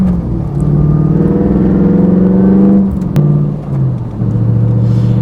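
A 1991 Corvette ZR-1 V8 accelerating hard in normal power mode, the engine note rising loudly and steadily, briefly dipping around a shift, then pulling again without any talk.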